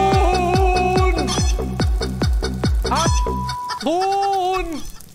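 Chickens in the Farmers Life video game cluck in a quick, regular series of loud, close calls, followed by a drawn-out squawk near the end.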